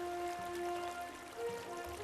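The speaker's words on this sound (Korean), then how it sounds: "촉촉히 내리는 비가 제주섬을 적십니다. 비는 곳곳에 물길을 만들고 폭포가 되어 흐릅니다." Rain falls and runs as flowing water on Jeju island. It sounds like a steady, even wash of water that continues throughout, with a soft tonal music bed playing underneath.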